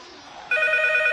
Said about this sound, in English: How's it ringing? It's off the hook.